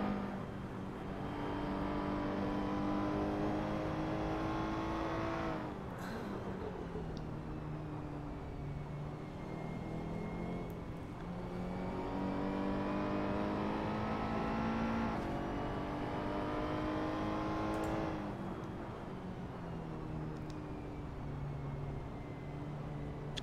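McLaren race cars at Mugello in a sim racing game give a steady high engine whine that rises and falls as they shift gears, with several slides in pitch and one car roaring close throughout.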